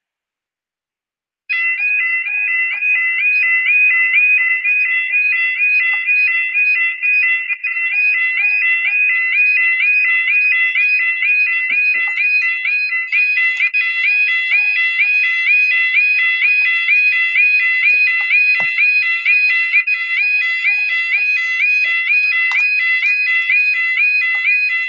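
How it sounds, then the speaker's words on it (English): An alarm sounds continuously from about 1.5 seconds onward, a loud, steady, rapidly warbling electronic tone pulsing without pause until the end, with no talking over it. "So let's get sort of a preview what the alarms sound like."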